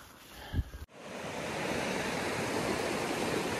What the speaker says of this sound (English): I heard the water, I came to the water.